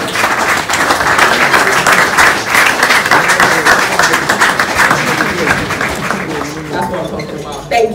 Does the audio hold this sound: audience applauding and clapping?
yes